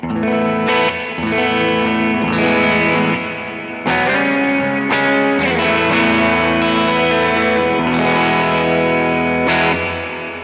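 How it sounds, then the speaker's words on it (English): An electric guitar through an HX Stomp on a low-gain overdrive setting plays sustained chords and notes, slightly crunchy and warm, with short pauses between phrases. "So this is what that sounds like in its low gain setting."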